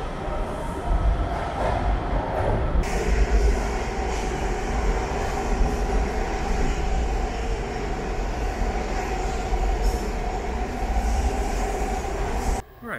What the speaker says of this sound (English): That must be a 16-car train.